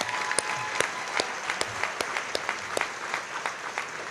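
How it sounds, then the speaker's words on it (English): A dinner audience applauds at an alumni awards event, a moderate, sustained clapping from a room of people with a few sharper claps standing out. "Please join me in a round of applause for all these folks."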